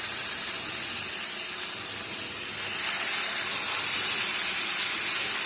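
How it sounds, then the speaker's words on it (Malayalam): Chicken pieces coated in masala frying in melted butter in a small pan, a continuous loud hiss and sizzle that swells midway and stays strong, with no one speaking. "അപ്പൊ അതിലേക്ക് നമ്മളുടെ ചിക്കൻ മസാല പുരട്ടി വെച്ചിരിക്കുന്നത് നമുക്ക് ഓരോ പീസ് ഇതിലേക്ക് ഇട്ട് കൊടുക്കാം."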